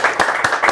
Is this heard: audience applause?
yes